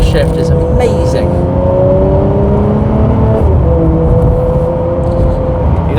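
Ferrari 599 GTO V12 engine revving hard, a loud sustained howl with pitch climbing and dipping through gear changes, heard from the cabin with a person speaking over parts of it.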